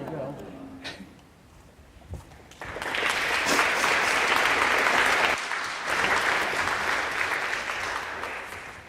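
Church congregation applauding at a Unitarian Sunday morning service, a steady, full wash of clapping that swells after some quiet talk and murmuring at the start, then carries on loud and sustained.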